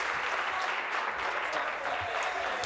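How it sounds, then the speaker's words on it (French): Steady, dense applause fills a legislative assembly chamber during question period, sustained and even throughout without pause. "une fois que les gens ont commencé à applaudir"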